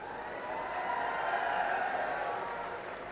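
Audience applause at a political rally for the Aam Aadmi Party in Haryana, a steady wash of clapping from a large crowd with a faint murmur, fairly distant and even throughout.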